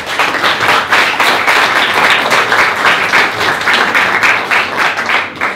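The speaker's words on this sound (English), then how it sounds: "I think that deserves a round of applause before I launch into this" An audience claps loudly at the final evening of an international symposium in Winchester, the applause rolling in dense, even waves for several seconds without any speech.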